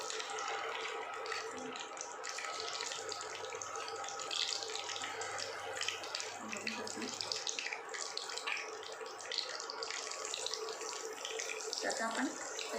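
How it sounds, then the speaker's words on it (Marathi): Vada lentil dumplings fry in hot oil in a pan, giving a dense, continuous bubbling hiss that stays loud and even throughout, with a brief low thump near the end. "तर आता आपण याच्यात जे वडे आहेत ते आपण फ्राय करायला टाकूया"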